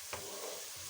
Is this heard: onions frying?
yes